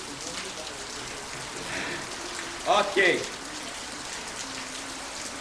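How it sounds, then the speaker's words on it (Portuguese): Heavy rain falls steadily in a continuous, dense hiss that carries on throughout, with a brief spoken word cutting in partway. "eu pensei que ia parar a chuva"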